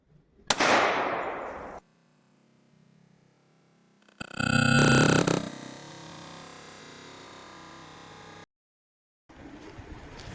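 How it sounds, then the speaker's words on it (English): A Kimber 1911 pistol in .45 ACP fires ball ammunition, producing a sharp nearby report followed a few seconds later by a longer, rougher burst of noise. Quieter stretches and a short silence separate them. "We have a Kimber, model 1911. Ball ammo, coming in from the right."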